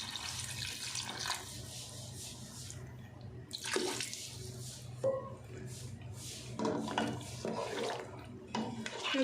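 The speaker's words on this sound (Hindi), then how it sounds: "अब हम इसमें पानी ऐड कर देते हैं।" Water is poured from a glass into a pot of beef curry cooking in ghee, splashing and gurgling in a few short bursts close by.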